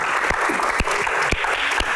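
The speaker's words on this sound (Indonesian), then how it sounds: "Tepuk tangan untuk box malam." An audience at a Q&A event claps continuously, a thick, even patter of many hands with a few sharper individual claps standing out.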